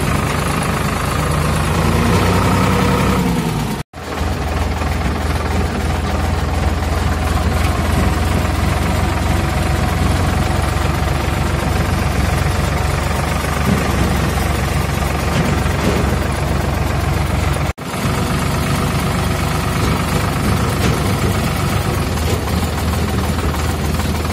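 A tractor engine runs on a farm, its low, steady rumble close and continuous, heard from onboard. Two brief dropouts break the sound, and no one speaks.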